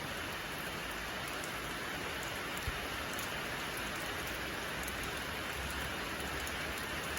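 Heavy storm rain pours steadily outdoors at a Thai worksite with excavator and log-grab trucks, a dense, even hiss of drops with no pauses, alone and without talk.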